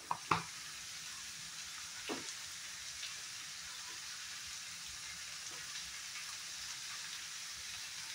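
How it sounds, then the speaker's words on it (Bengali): Brinjal frying in a pan with salt and turmeric powder, a steady soft sizzle throughout with a couple of sharp stirring clinks near the start and a few fainter taps later. "এখন একটু সময় ফ্রাই করে নেব।"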